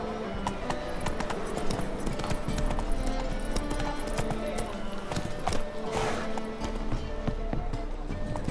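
In The Witcher 3 video game, the horse Roach gallops with rapid hoof clip-clops over a rumbling game soundscape, busy and continuous, with brief vocal sounds mixed in.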